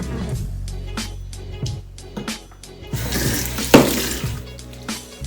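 Running water from a tap splashing over hands at a sink during a skincare routine, with intermittent splashes and a sharper splash near the middle, no speech.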